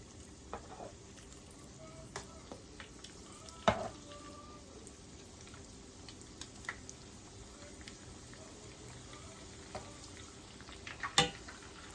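Oil sizzling and crackling steadily as rolled taquitos fry, with scattered louder pops and clicks from utensils, fairly quiet throughout.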